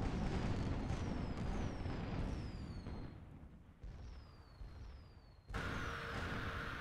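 Cannon fire in a team video game match, a series of booming shots with whistling trails spaced a second or so apart, fairly faint and distant, with a louder burst near the end.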